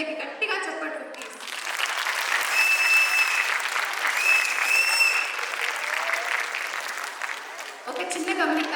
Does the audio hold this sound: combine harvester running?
no